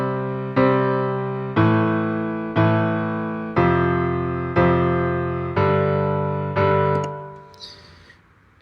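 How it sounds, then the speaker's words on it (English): A sustained keyboard instrument plays a 1-6-4-5 fifties chord progression, with about eight evenly spaced chords struck and left to ring and fade, close and clear, ending in a soft shuffle. "Here's a 50s chord progression."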